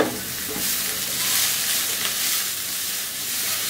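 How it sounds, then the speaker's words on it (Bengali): Julienned cabbage and carrot stir-fry over high heat in a pan for chilli garlic noodles, with a steady bright sizzle and hiss and faint stirring scrapes, heard alone. "একটু পাতাকপি এরকম জুলিয়ান করে কাটা, এই দুইটা একসাথে দিয়ে একটু ভেজে নিব।"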